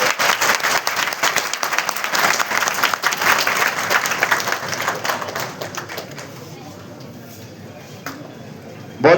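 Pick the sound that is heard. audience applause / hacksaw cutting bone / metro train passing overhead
audience applause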